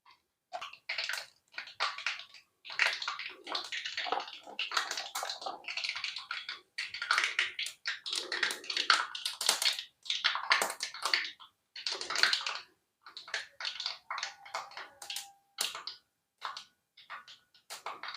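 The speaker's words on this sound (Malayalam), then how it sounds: "കടുക് ഉലുവയൊക്കെ നന്നായിട്ട് പൊട്ടി തീരുമ്പോൾ" Mustard and fenugreek seeds spluttering in hot oil in a pan for tomato pickle: a dense, continuous run of sharp crackles and pops, close and steady throughout, with no talk.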